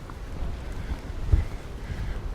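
Steady low rumbling wind buffets the microphone on a seafront in Palmanova, Mallorca, with a louder gust around the middle and no talking.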